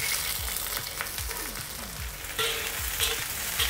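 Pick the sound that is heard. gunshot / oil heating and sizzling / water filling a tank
oil heating and sizzling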